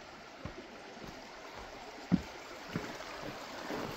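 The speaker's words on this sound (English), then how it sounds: "Beautiful Minister Creek." Minister Creek on the North Country Trail flows in a soft, steady wash of water under a quiet outdoor ambience, with a few faint knocks and rustles nearby.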